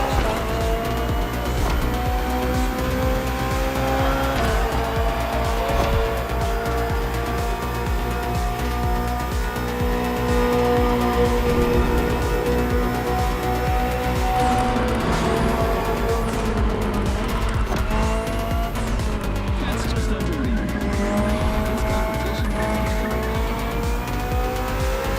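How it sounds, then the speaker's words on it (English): A BMW M Hybrid V8 endurance race car in The Crew Motorfest holds a loud, continuous engine drone with rising and falling pitch across gear shifts and brief tire squeals. "Finally, the BMW M Hybrid V8. What a beast."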